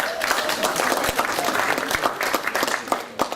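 A round of applause from a teacher audience at a school TeachMeet event, dense clapping from a crowd with some sharper individual claps, lasting the whole stretch.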